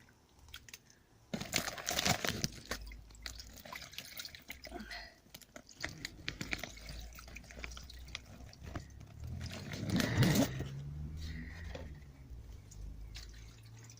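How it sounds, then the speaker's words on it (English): Water poured outdoors into several containers on a sunny day, trickling and splashing in bursts with a louder gush near the end, amid faint rustling and background noise. "I better put some water in these"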